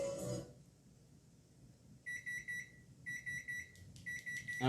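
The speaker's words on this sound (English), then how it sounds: "that's the timer" A kitchen timer beeps in quick repeated bursts, sounding in spaced groups of rapid electronic pips, faint and a little distant, with no talking.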